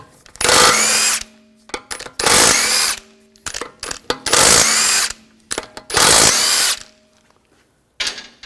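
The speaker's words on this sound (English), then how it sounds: "Using a 17mm socket, take the lug bolts off." Power tool with a 17mm socket spins lug bolts off a 2004-2009 Audi A4 wheel in four loud, close bursts of about a second each, separated by short clicks and handling noise.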